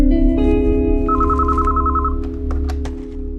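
A telephone rings loud and close, an electronic trilling ring pulsing over a sustained tone, heard alone without voices.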